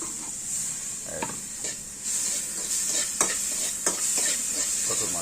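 Small fish sizzle loudly in hot oil in a pan for a bottle gourd curry, a steady bright frying hiss broken by several sharp scrapes and stirs of a utensil.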